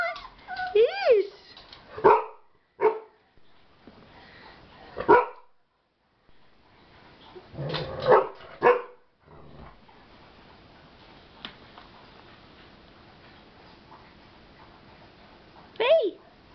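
A dog barks and yips in short bursts, several close together, then sporadically with quiet gaps, ending in one more bark; faint ticking in between.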